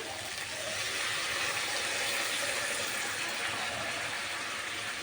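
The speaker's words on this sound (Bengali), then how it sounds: "এখন আমি এখানে পরিমাণ মতো জল দিয়ে দেবো" Water pours steadily into a pan of mushroom and potato curry, giving a soft continuous splashing hiss at low volume with no talk.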